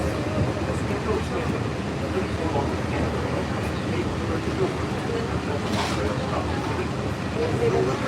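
A Walt Disney World monorail train rolls along with a steady, dense interior rumble and hum, and a voice speaks faintly over the ride noise.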